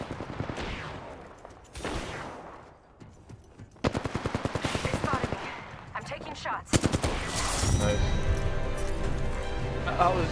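Bursts of automatic gunfire from the Apex Legends video game on PS4, rapid rhythmic volleys separated by pauses and building to sustained close firing near the end, with players talking over the shots.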